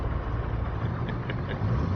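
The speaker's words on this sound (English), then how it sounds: "I can't hear you over the engine of this thing and all the smoke" A tracked vehicle's engine in the game Roadcraft rumbles at a steady, dense idle, low and continuous with faint mechanical rattles on top, close and filling the whole moment.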